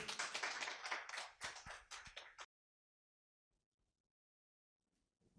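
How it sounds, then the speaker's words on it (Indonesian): A church congregation claps at a Sunday worship service, the applause dense but fairly soft for about two seconds before it stops abruptly, leaving near silence with a few faint knocks. "saya ciriin tepuk tangannya kayaknya lemes-lemes terus tiap kali sekarang"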